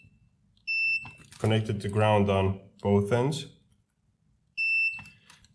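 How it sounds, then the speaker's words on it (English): A multimeter set to continuity mode gives a steady electronic beep while its probes test connections on a circuit board's ground points. Two clear tones sound, one at the start and one near the end, with someone talking in between. "now I'm gonna use this multimeter on the beeping mode"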